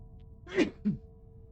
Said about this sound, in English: I've got a sneeze coming on.